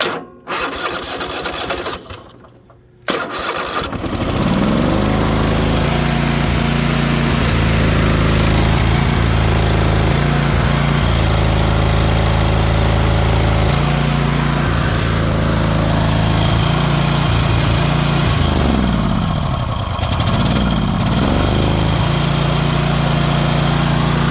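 A Kohler 7000 series engine on an Ariens Apex mower runs rough after a brief starter crank, holding a loud, steady but uneven drone with dips and surges throughout.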